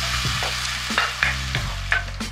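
Tomatoes sautéing in a pan for mutton nalli bone curry give a steady sizzle, broken by several sharp scraping strokes of a spoon at a regular pace, close and fairly loud, with no voices.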